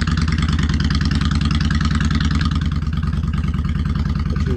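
Honda Shadow 600 chopper motorcycle engine idling steadily, a loud, close, even low rumble with a regular pulsing beat that holds without change.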